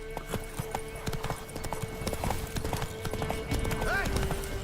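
Hooves of a horse clip-clopping at a steady trotting rhythm in The Witcher 3, close and clear, with brief character speech and a short whinny-like call near the end.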